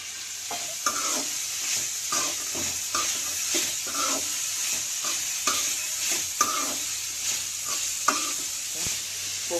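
Sundakkai chutney ingredients sizzle steadily in hot oil while a spoon stirs and scrapes the pan in repeated strokes, with a continuous close frying hiss underneath and no talking.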